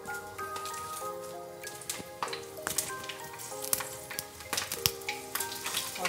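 Green chillies, panch phoron and bay leaves sizzling in hot oil, a continuous crackling fry with sharp spattering pops and occasional clinks, close and alone without speech.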